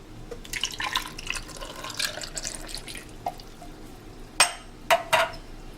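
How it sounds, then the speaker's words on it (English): Coconut milk is poured for a strawberry smoothie, giving a soft, close liquid trickle and light splashing, followed by a few louder drips and container clinks near the end. "So I'm gonna add my coconut milk."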